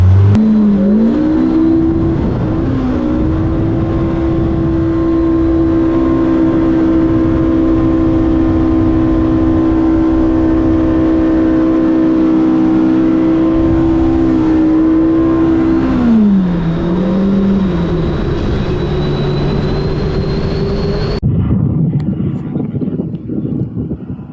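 A loud turbo long-travel Yamaha YXZ side-by-side engine revs on sand dunes, holding a high, buzzing drone for a long stretch, briefly drops in pitch, then climbs again before cutting off abruptly.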